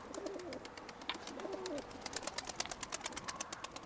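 Pigeons coo softly, close up, with low repeated coos over rustling and fluttering, including a burst of wing claps toward the end.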